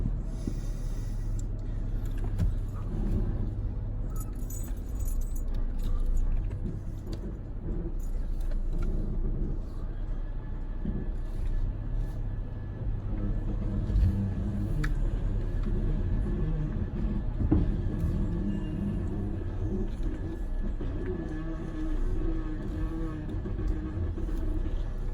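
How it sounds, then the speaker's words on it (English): Vehicle engine idling and rumbling while slowly backing a NuCamp 400 RV trailer into a campsite, a low continuous drone with occasional creaks and clunks, no talking. "So let's go ahead and see if we can't get this backed in."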